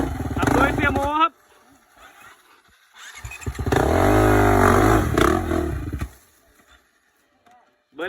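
A KTM dirt bike rides a slippery trail near the Bo Wi waterfall, its engine revving loud and close in two bursts separated by a quiet gap.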